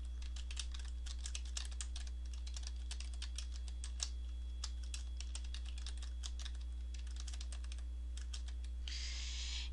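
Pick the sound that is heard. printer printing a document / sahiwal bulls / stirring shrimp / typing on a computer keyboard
typing on a computer keyboard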